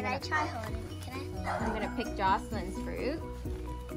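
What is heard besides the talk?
neighbor's dog barking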